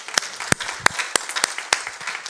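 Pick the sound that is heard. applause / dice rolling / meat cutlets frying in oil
applause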